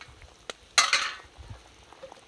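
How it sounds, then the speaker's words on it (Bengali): Fried river fish dropped into a simmering curry gravy in a pan, one sharp sizzling splash that fades over about half a second, with a few faint clinks and stirring sounds around it. "এবার আমি ভেজে রাখা মাছগুলো সব দিয়ে দেবো।"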